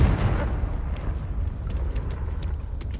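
A Confringo fire spell bursts at the start in Hogwarts Legacy, a loud booming blast that fades into a low rumbling tail with faint crackles lingering afterward.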